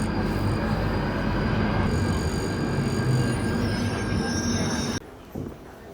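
Train on the approach to London Euston heard from inside a carriage, a loud steady rumble of wheels on track with a high squeal, cutting off sharply near the end to a quieter interior.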